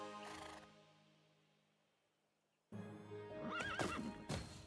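Horse neighs and whinnies in the video game Tiny Tina's Wonderlands, a loud whinny opening, a fading pause, then a sharp rising neigh with trilling calls and clip-clop hoofbeats, close and alone.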